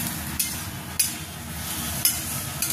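Broccoli and ginger stir-fried in a pan, a steady low sizzle with a few sharp clinks of a utensil against the pan, close and moderately quiet, no voices.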